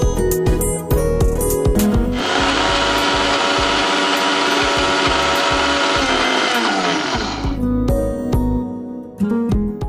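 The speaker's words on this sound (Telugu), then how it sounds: "మిక్సీ అక్కడ ఉంది, చక్కగా గ్రైండ్ చేసుకుని వచ్చేయండి" A mixer grinder whirs loudly for several seconds while grinding mango dough, a dense steady roar bracketed by clattering knocks and rattles before and after the motor runs.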